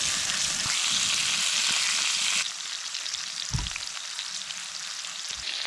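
Steak frying in a generous chunk of butter in a pan at a backcountry campsite gives a loud, steady sizzle that drops slightly in level midway, with a soft thump or two underneath.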